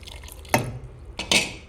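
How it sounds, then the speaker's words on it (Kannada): Short bursts of water splashing and pouring into a mixer jar of ground pumpkin and carrot, two brief pours separated by a pause, with light drips. "ಈಗ ಒಂದು ಸುತ್ತ ತಿರ್ಸಿ ಆಗಿದೆ ನೀರು ಹಾಕ್ಕೊಳ್ತೇನೆ"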